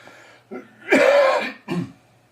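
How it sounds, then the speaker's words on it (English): A man recovering from a cold coughs three times, one short cough, then a longer rough hacking cough, then a final cough, close and loud at a workbench. "Sorry about the coughing."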